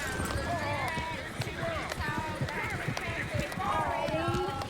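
Galloping horse hooves in the video game Red Dead Redemption 2 pound in a rapid rhythm under a busy mix of voices and background music.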